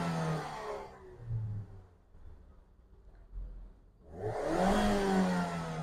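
The petrol engine of a 2015 Ford EcoSport Titanium revs in two rising bursts separated by a quiet idle lull, heard up close.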